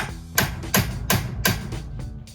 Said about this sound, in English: give it a couple of good whacks, and check that you're actually hitting it in the right place, because the punch will move.